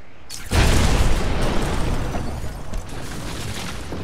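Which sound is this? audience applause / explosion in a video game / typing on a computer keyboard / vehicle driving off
explosion in a video game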